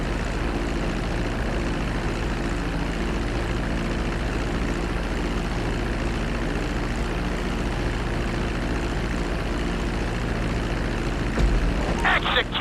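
An airplane in GTA V during a runway landing at flight school, carrying a steady, loud engine drone with a low hum throughout, ending in a brief scrape or clunk.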